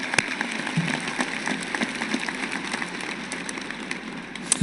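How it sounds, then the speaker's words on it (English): A graduation audience applauds the teachers and staff at a high school ceremony, a steady, moderately distant wash of clapping with a few sharper nearby claps, with no talking. "Give them a round of applause."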